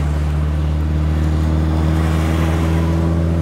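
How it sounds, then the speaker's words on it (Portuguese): A square-body Volkswagen Gol idles with a deep, steady exhaust rumble, holding a constant droning engine note close up with no voices. "Vocês estão escutando bem o barulho do escape dele"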